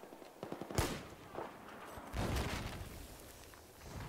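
Rapid bursts of gunfire from a first-person shooter video game with a laser light weapon setup, a fast cluster of sharp shots early on followed by heavier sustained firing, fairly close and loud without talk.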